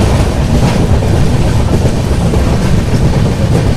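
A train rumbles loudly and continuously across a road-cum-railway bridge over the Godavari, heard from inside an AC express coach, with a steady heavy roar and clatter of wheels and no voices.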